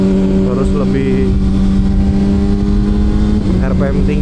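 A Kawasaki ZX-6R 636 fitted with a long exhaust drones loudly and steadily while riding, its engine note holding near constant, with someone talking over it.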